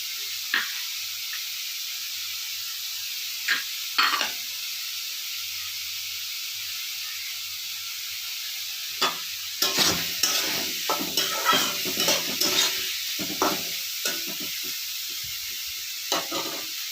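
Minced green chillies frying in a pan, a steady hiss of sizzling oil with bursts of scraping and stirring clatter in the middle and toward the end, close and fairly loud, no talking.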